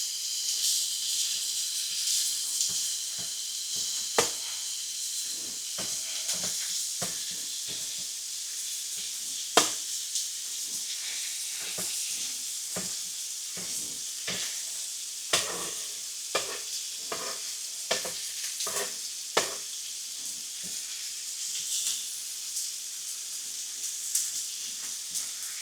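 Sliced ribeye steak sizzles steadily in a pan for steak and cheese subs, a continuous bright hiss with frequent sharp pops and scraping stirs as the meat is spread into one layer, with no talking.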